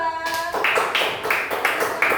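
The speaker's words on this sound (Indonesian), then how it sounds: "Beri tepuk tangan dulu untuk kelompok 2" A short burst of clapping for a group in a classroom setting, a few sharp rhythmic claps from a small group after a brief opening sound.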